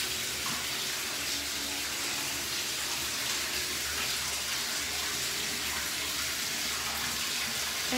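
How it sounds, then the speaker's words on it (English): Steady, continuous rush of tap water pouring into a bathtub while hair dye is washed out, close and constant throughout. "now I'm just gonna wash it out in the bathtub"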